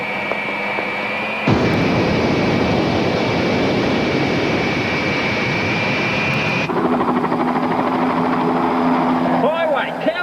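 A private jet's engines roar loud and steady, a broad rushing noise that begins abruptly, holds for several seconds with a thin high whine, then drops to a lower hum.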